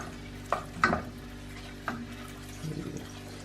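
Fifty grams of butter melting in a frying pan, heard as soft sizzling with a few sharp scraping knocks of a utensil against the pan, close and fairly quiet, no voices.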